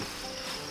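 Crickets chirp in a continuous, even high trill, a steady close insect chorus with no other sounds over it.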